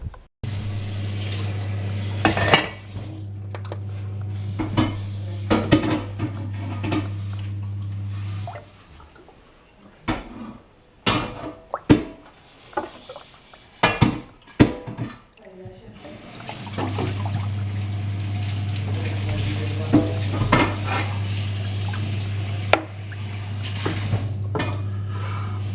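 A pot of bramble plant dye simmers and is stirred. A steady low hum runs under scattered scraping clinks and metallic knocks, with a quieter stretch in the middle full of sharp clatters and drips.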